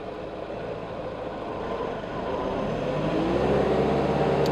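A forklift drives forwards while lifting with a Digital Displacement hydraulic system, its motor drone rising steadily in level and pitch over a few seconds, close and continuous with no voices.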